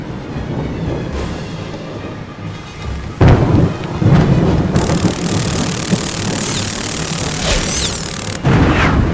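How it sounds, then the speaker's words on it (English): A thunderstorm rages in the Harry Potter and the Prisoner of Azkaban PC game, with heavy steady rain under rolling thunder and two sudden loud cracks that boom and then rumble away. "Even though the following morning was stormy and foul"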